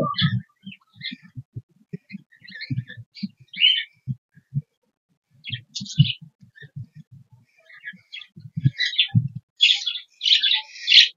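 Budgerigars chirp in a cage in short, scattered bursts of high tweets with pauses between them. Soft low thumps from handling sit underneath, and the chirping grows busier toward the end.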